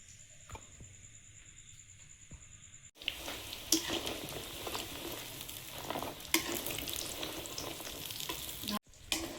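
Oil crackles and sizzles steadily as square pieces of sweet dough deep-fry, with occasional stirring clinks; no voices, just a quiet hum before the frying starts.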